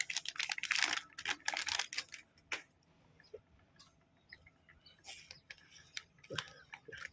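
The seal on an Epson L3150 ink bottle is torn open in a few crinkly ripping bursts at the start, then softer scattered handling clicks and rustles, close and fairly quiet.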